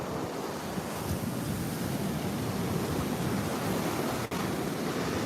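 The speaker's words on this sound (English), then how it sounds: "And look at these waves." Ocean surf at Juno Beach rolls and breaks onto the shore in a steady, continuous roar of washing water mixed with wind buffeting the microphone, with no voices.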